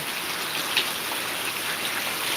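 Steady, dense rain hiss filling the whole clip, constant and fairly loud with scattered drop patters and no voices.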